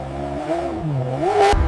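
A Lamborghini Revuelto supercar's exhaust revs up and down in a smooth rising and falling howl, loud and close, ending with a sharp burst.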